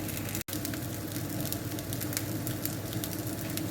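Sausage and hash brown fry in a single pan, giving a steady, dense sizzle and crackle that holds without pause, close and moderately loud, with no talking.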